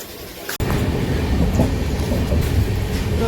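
A passenger train moving on rails, heard from inside as a loud continuous rumble with rhythmic wheel clatter that begins right after a brief cut and then runs steadily, with no voices.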